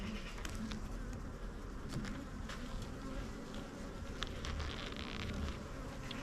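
Honey bees swarm and hum around an open hive during a beekeeping inspection for varroa mites, a dense steady buzz close to the microphone with individual bees zipping past now and then.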